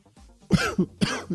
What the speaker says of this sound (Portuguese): Nossa, tosse voltou.